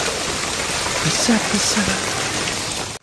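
Heavy rain pours in a dense, steady hiss, with a voice murmuring faintly beneath the downpour before it cuts off.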